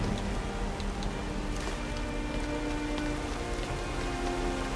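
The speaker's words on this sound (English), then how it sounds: "Oh, it's raining again." Steady rain in Skyrim falls continuously on surfaces, dense patter with scattered droplet ticks, even and unbroken throughout, no voices.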